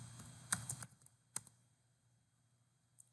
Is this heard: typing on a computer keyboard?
yes